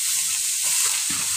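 Tomato dropped into plenty of hot oil with red masala for misal pav, giving a dense, loud hiss of frying that runs the whole short moment without any voice.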